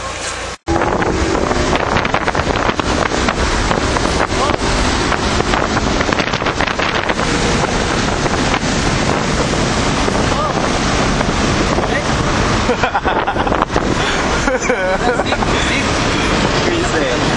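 Loud, roaring wind buffets the microphone inside a fast-moving Mitsubishi Lancer Evolution, a constant rushing blast that covers nearly everything after a brief quieter start.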